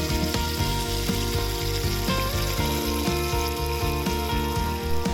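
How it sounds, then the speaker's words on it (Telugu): Red chillies, green chillies and curry leaves fry in hot oil as a tempering for mango rice, a loud steady sizzle with repeated scraping and stirring knocks running throughout. "వీటిలోనే కరివేపాకు రెబ్బలు కూడా వేసుకొని ఒకసారి బాగా కలుపుకొని ఫ్రై చేసుకోండి"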